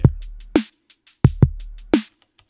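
Punchy electronic kick drums from a ZAPS module layered with a 6 mod 6 kick hit in a sparse rhythm, mixed with short clicky percussive ticks, close and dry.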